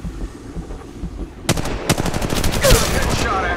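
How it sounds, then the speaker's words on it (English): Rapid automatic gunfire from an Apex Legends battle royale match erupts after a quiet stretch, a loud, dense stream of shots close by lasting roughly two seconds. "Shots fired and they're hitting me."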